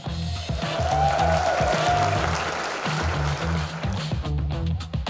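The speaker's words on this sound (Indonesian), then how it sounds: "boleh tepuk tangan yang paling meriah, CEO Cekat.ai, Matthew Sebastian." Lively audience applause welcoming a CEO on stage at a founders' event in Indonesia, a dense sustained clapping with cheers under rhythmic background music, loud and close throughout.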